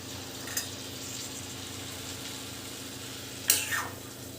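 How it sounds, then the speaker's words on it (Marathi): Mixed vegetables, including capsicum pieces and field beans, fry in oil with a quiet, continuous sizzle and two brief spoon scrapes. "आता हे सर्व आपल्याला तेलामध्ये छानपैकी फ्राय करून घ्यायचं आहे"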